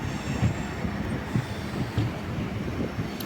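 A MEMU electric passenger train rolls into Kottayam station, a low continuous rumble with faint rhythmic wheel knocks and a thin high squeal, heard steadily from inside at moderate level.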